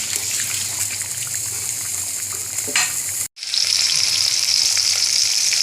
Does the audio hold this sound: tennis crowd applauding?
no